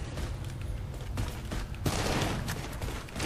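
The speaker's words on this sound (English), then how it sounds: "Some guy just blew my face off with a shotgun." Shotgun blasts in a video game, a couple of muffled booming shots amid a dense rumbling wash of game noise, fairly faint and without talk.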